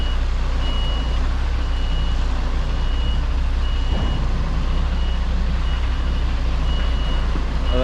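A lorry unit reverses and jackknifes its trailer on an icy early morning at -7 degrees. A steady low diesel rumble runs throughout, with a high reversing beep repeating at regular intervals.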